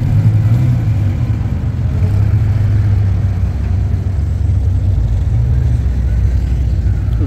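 A Dodge Viper with side-exit exhaust rumbles steadily nearby at a Fuelfest Japan car show at Fuji, its engine note a continuous deep drone without distinct revving.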